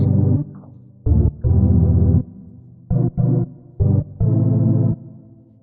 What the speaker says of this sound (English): the chords sound something like this.